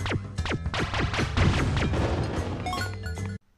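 Buzz Lightyear's normal laser in the Toy Story 2 video game fires in a rapid series of sharp zapping shots with quick downward sweeps, loud and close, before a short pause and a final burst.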